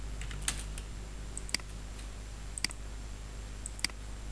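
Computer keyboard keys pressed during work on an AutoCAD drawing: four sharp, separate clicks about a second apart, fairly close and light over a steady low hum, with no talking.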